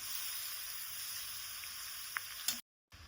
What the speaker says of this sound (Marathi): इथं गॅस मोठाच ठेवायचा आहे आणि थोडा वेळ गाजराचा कीस परतून घेऊयात.